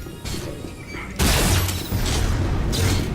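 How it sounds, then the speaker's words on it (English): Flak cannon secondary fire launching a flak bomb in the video game Unreal: a low rumbling ambience, then a sudden loud burst with a shattering spray, followed by lingering crackly echoes. "The secondary fire launches a flak bomb,"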